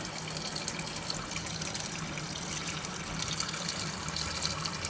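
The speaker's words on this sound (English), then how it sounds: "It senses that it wants just a little bit more water," Danby DWM17WDB portable washing machine filling with water from a household tap at modest pressure, a steady broadband rush and trickle running continuously, close and unbroken with no talk over it.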